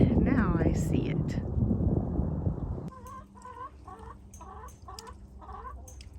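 A chicken clucks in a series of short, rhythmic calls in the open outdoors near an RV garage, clear and fairly close after several seconds of talk and broadband noise at the start.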